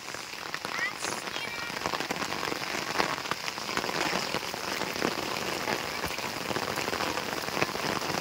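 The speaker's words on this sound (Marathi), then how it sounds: "आला जोरात पाऊस." Heavy monsoon rain pours down steadily over paddy fields in Konkan, a dense, loud hiss of drops drumming on a surface throughout, with no letup.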